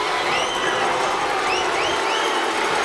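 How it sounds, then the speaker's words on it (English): Football crowd at a high school state championship game, a broad roar of many voices with rising shouts and whistles carrying over it, steady and loud for the whole moment. "the crowd chants blue"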